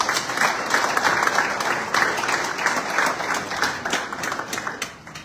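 An audience at a Zimbabwean embassy event in Namibia applauding after a speech, with sustained crowd clapping that slowly thins and fades over several seconds.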